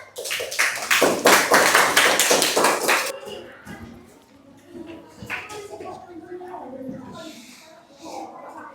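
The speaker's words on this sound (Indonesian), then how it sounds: "Boleh tepuk tangan?" A classroom of students clapping hands in a loud, brisk burst for about three seconds, followed by quieter shuffling, scattered taps and a teacher talking.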